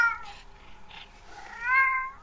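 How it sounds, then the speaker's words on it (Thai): A neighbour's cat meows twice in clear, close calls, one short and one longer drawn-out cry, with no talking around them. "แมวข้างบ้านร้องออกมา"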